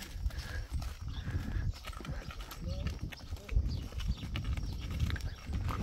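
A rescue horse walking outdoors, its hooves clip-clopping in an irregular steady rhythm, fairly close, with soft rustling and scattered background noise throughout.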